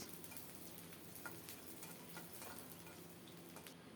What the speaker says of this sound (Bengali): সরিষার তেল দিয়েছি ফোড়নে দিলাম কুচানো পেঁয়াজ